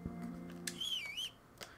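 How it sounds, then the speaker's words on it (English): In the medieval game Kingdom Come: Deliverance, a character whistles a brief rising and falling tune, faint and quiet, among soft game ambience. "Quit whistling."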